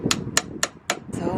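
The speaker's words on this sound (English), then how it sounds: "Time for a new chisel." A chisel is hammered into rotten wood on a boat: four sharp, evenly spaced knocks close by, followed by a duller scraping sound at the end.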